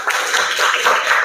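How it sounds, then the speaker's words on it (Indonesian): A classroom of students claps for a presenting student group, a dense burst of many hands applauding together, loud and close. "Tepuk tangan untuk kelompok 3 yang bertanya."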